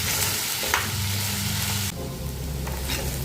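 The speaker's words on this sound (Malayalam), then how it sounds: "സവാള, ഇഞ്ചി, വെളുത്തുള്ളി എല്ലാം നല്ലതുപോലെ വഴന്ന് വരണം." Onion, ginger and garlic sauté in a hot pan for a tomato curry, a steady close sizzle and crackle of oil with brief stirring scrapes, with no talk.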